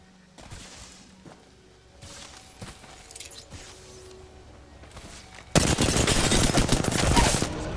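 Video game gunfire: several seconds of quiet, scattered thuds and clicks, then a sudden loud, sustained burst of rapid automatic shots that continues to the end.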